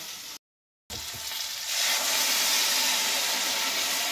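Mustard and sesame paste dropped into okra frying in a pan, a steady sizzle cut by a brief silent gap before swelling into a louder, brighter, continuous hiss with no voices.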